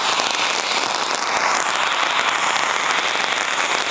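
Sivakasi firecracker, a handheld flower-pot style that shoots up a fountain of sparks, lit and going off with a loud, continuous dense crackling and hissing that holds steady throughout.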